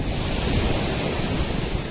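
Ocean waves break along a seashore, a continuous loud wash of surf mixed with wind noise on the microphone, with no voices.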